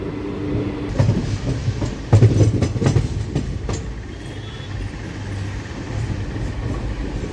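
A passenger train runs on rails on the Tirupati to Charlapalli route near Yerraguntla Junction, with a steady rumble and a burst of rhythmic wheel clacks over rail joints early on, then a smoother fading roll.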